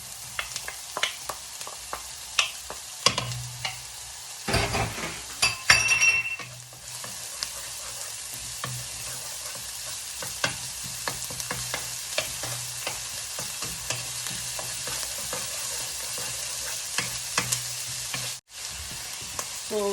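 Ham sizzles and crackles in a hot pan for fried rice, with frequent spatula scrapes and clinks as it is stirred, and a steady frying hiss carrying on throughout.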